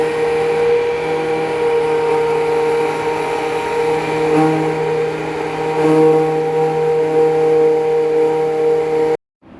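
A machine mixing homemade all-natural gelato base gives off a steady, loud motor whine with a constant tone that runs unbroken for about nine seconds before stopping abruptly.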